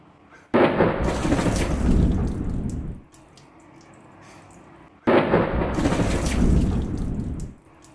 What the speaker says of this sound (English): Today, the rain is coming.